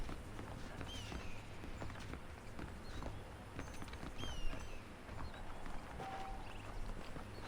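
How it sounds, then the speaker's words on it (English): Horse hooves in the Red Dead Redemption video game, a steady clip-clop of a horse walking at a moderate pace, faint and close, with soft ambient chirps in the background and no talking. "The horses are saddled up over here."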